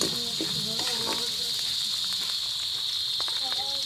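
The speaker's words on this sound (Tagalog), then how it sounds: "Tumutunog na yung kuliglig." Crickets keep up a steady, high-pitched chirping drone that runs through the whole clip, with faint kitchen clatter and quiet voices beneath it while pancit is being cooked.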